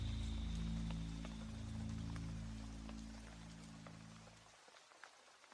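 Steady rain falls outside as a soft, continuous patter of drops under a low droning hum that cuts off partway through, leaving only the faint rainfall.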